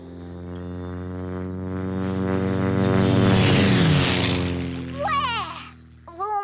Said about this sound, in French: Alors, ce sont les avions qui font le plus de bruit.